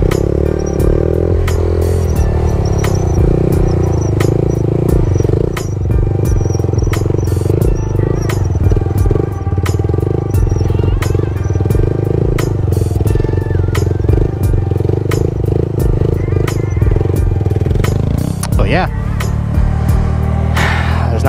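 A motorcycle runs continuously through a circle wheelie, a loud close engine drone holding a steady pitch with a brief rise and clatter near the end.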